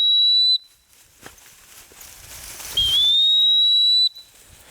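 A sharp, steady dog training whistle sounds two long blasts, one short at the start and a longer one after a pause, during duck dog handling training outdoors, with faint rustling and footsteps in between.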